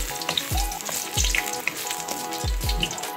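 Ginger sautés in a hot pan at the start of squid adobo, a steady bright sizzle close by, broken by several sharp spatula knocks and scrapes.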